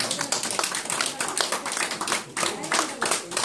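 A gathering at a cultural seminar and prayer ceremony claps for helpers standing up, producing quick, irregular bursts of nearby hands slapping together, fairly loud, with murmuring voices mixed in underneath.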